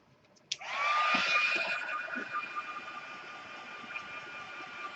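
Handheld heat tool switches on with a click and a steady whining blower hum, drying sprayed-on colour on a Christmas swag craft, running continuously and fairly loud with no talk.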